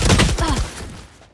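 Rapid bursts of suppressed Ghost pistol fire in the Valorant video game, several quick shots packed into the first half-second, close and loud, then fading out with a short decaying tail.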